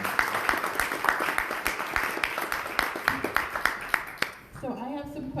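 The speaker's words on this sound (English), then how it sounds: "So a round of applause for all the sponsors in today's forum." Applause at a democracy town hall forum honoring its sponsors, a run of sharp individual claps in a modest room, fairly close, fading out as a voice begins speaking near the end.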